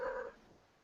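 A house cat gives a short, faint meow at the very start, fading quickly into quiet room tone.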